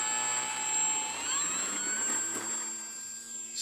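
A small electric motor of a KI-61 Hien model airplane whirs up in pitch and holds a high, steady whine, nearby and fairly loud, with no talking.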